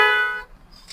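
A loud car horn blares on a road during a driving lesson, a harmonic honk lasting about half a second and then fading into quiet road noise.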